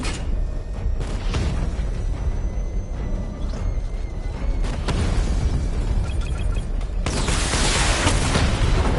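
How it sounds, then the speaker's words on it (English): Missile barrage explosions in Batman: Arkham Knight roll in as a dense, continuous series of booms and bursts, loud and sustained, with a heavier blast near the end. "Missile barrage level 2 ready."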